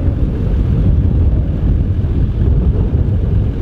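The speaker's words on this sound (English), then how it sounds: "It's windy." Strong wind buffeting the microphone outdoors near water, a loud continuous low rumbling roar with no break.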